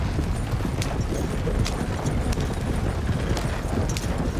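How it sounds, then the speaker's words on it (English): Horses gallop at full speed across open country in the Red Dead RP video game, a steady rapid clip-clop of hooves running continuously and fairly loud with no talk over it. "Really let the horses run."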